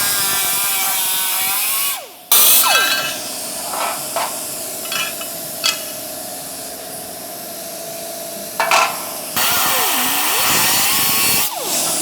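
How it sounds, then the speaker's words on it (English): Cutoff wheel slicing through aluminum while fabricating a Chevelle chin spoiler: a loud, piercing grinding whine in several bursts, separated by short pauses and spin-downs, close up with no voices. "it will actually help you cut through the aluminum, and you won't feel the cutoff wheel fighting you as much"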